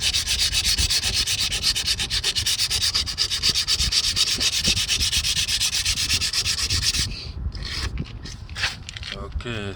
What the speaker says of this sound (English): you can use the sandpaper to give it another rub